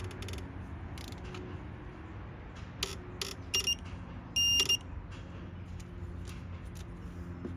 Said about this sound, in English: we're going to be torquing down this throttle body to 8 foot-pounds